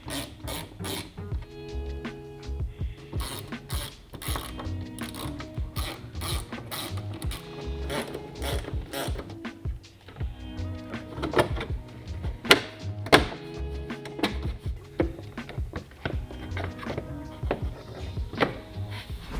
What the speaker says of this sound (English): I'm going to pull this apart, we'll get the fog light out and on the bench